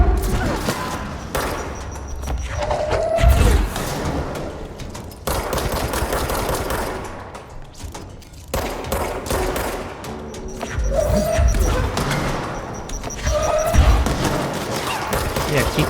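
Gunfight in the video game Control with enemies firing grenades, dense rapid gunfire and bursts with heavy thuds and crashes, loud and continuous with brief pauses, a voice talking over it.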